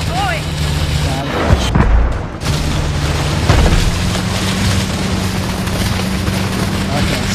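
Missiles in Call of Duty: Advanced Warfare: heavy booms and rushing blasts roll over a droning engine-like background, with voices heard along with the action.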